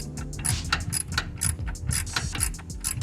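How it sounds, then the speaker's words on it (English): Ratchet with a 15 mm socket loosening a bracket bolt on a Chrysler 300 engine block: rapid, close, continuous pawl clicking in quick uneven strokes, heard alone. "Just loosening up this bolt"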